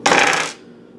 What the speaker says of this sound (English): So can we just roll the dice on this before I show these cards?